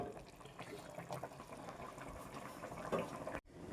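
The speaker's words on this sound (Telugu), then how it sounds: "కూత కూత కూతలాడుతుందండి" Burada matta fish pulusu, a tangy fish curry, boiling in a pot with a soft, continuous bubbling and gurgling, faint and close, ending in a brief sudden break.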